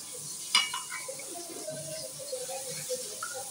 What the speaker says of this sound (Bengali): প্রথমে পটলটাই ভাজবো আমি।